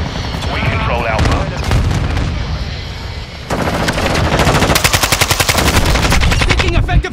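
Automatic gunfire from Call of Duty: Modern Warfare II multiplayer rattles in loud, rapid bursts, with a dense chaotic stretch of overlapping shots, then a tight, rhythmic stream of fast rounds to the end.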